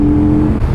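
Engine of a Benda Napoleonbob 500 motorcycle running steadily on country lanes, a loud close continuous drone with a brief dip near the end, no talk.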